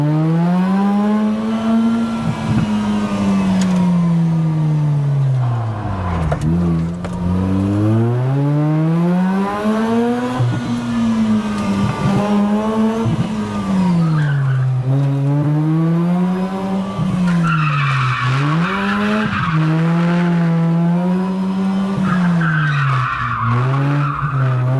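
A rotary-engined Mazda MX5 drifts around a go-kart track, its high engine note rising and falling continuously with each slide and throttle change, loud and close, with tire squeal at times and no talk over it.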